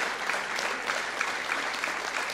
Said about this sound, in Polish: Proszę Państwa, brawa dla naszych aktorów,